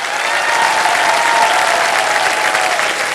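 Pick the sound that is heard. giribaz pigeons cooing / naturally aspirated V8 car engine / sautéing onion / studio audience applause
studio audience applause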